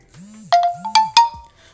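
A phone plays a short electronic notification jingle for an incoming SMS verification code during a LinkAja to DANA balance transfer, a few bright rising and falling tones, loud and close, with no talking.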